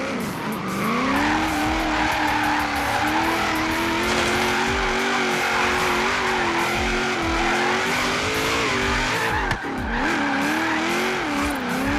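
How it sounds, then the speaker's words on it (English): A car drifts through corners in a racing video game, its engine holding a steady high-revving drone while tires squeal loudly and continuously, with a brief dip near the end. "Put your car in gear, drift around some corners."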